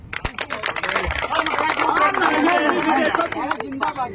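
A crowd at a teacher-recruitment protest rally claps in a loud, sustained patter of sharp, uneven hand claps, with voices calling out over the clapping.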